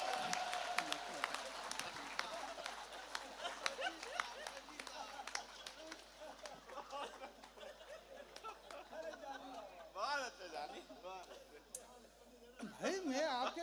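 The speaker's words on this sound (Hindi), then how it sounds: "ताली बजाओ।" An audience at a Hindi comedy show claps in a dense, fairly distant patter, under constant chatter and laughter. A voice speaks over the crowd, and the crowd noise rises again at the end.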